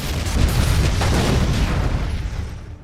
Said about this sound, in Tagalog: na nagdulot ng malaking pagsabog sa buong warehouse